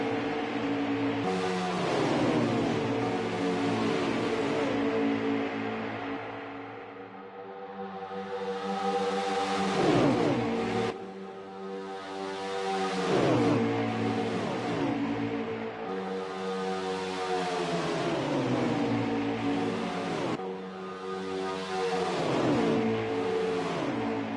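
Stock race cars at speed in a Talladega Cup race, a dense continuous engine roar with rising and falling pitch as cars surge past, loud and close throughout.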